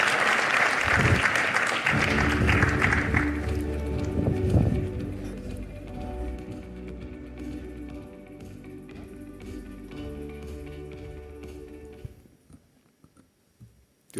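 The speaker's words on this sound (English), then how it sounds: "Warm round of applause, please." An audience at a live business event with Mukesh Ambani and BlackRock CEO Larry Fink claps in a dense burst of applause that gradually thins out and fades.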